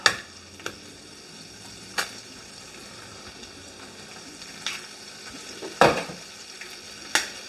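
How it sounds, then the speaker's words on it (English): Ham and eggs frying in a pan over high heat, a steady close sizzle with a few sharp pops and spatters scattered through, no talk. "In goes the ham. Heat it up a little bit. Alright, crack my eggs."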